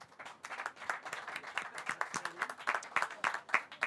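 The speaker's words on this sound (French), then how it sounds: "On peut les applaudir d'ailleurs." A small audience at a web TV broadcast claps for its guests, a modest scattering of individual claps with uneven rhythm, close and fairly faint, without a full roar.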